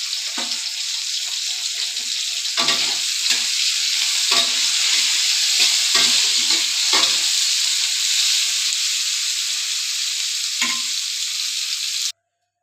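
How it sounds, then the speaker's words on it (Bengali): Cauliflower florets frying in hot oil seasoned with salt and turmeric give a steady, close sizzle, broken by several sharp stirring scrapes and clatters before it cuts off. "ফুলকপি তো ভাজা হয়ে গেছে।"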